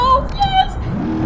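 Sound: Baja truck engine accelerating in BeamNG video game

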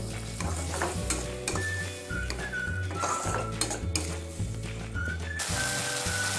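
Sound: spices and tomato puree being fried and stirred in a pan

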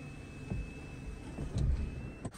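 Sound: Honda CR-V electric sunroof opening

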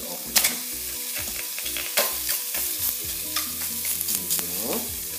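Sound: pork neck chops frying in a pan without fat

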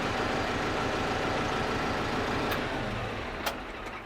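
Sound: KIY 90 hp tractor running with PTO shaft spinning at 540 rpm

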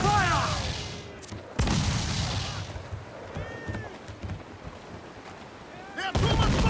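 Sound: ship cannons firing in the video game Assassin's Creed IV Black Flag

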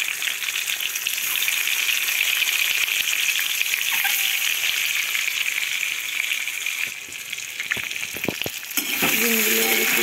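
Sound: eggs frying in a pan

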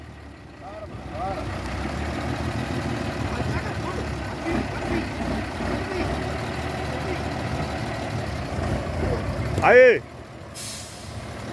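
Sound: truck engine idling and moving

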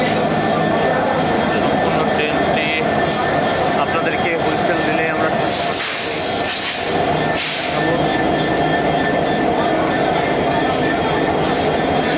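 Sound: Jahanabad Express train from Khulna

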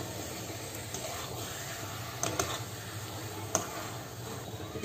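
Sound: paneer stirred into fried masala in a kadai

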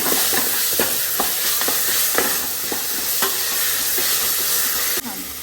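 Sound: stirring garlic paste with oil and onions in a pan

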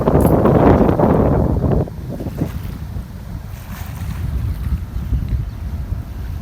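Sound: strong cold wind beside flooded work site

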